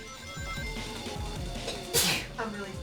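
A person sneezes once, a loud sudden burst near the end, over busy video game music with rhythmic thumps and a voice nearby.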